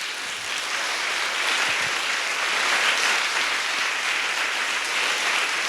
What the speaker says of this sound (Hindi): ऊपर ताली बजाएंगे।